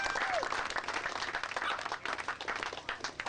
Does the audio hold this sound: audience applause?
yes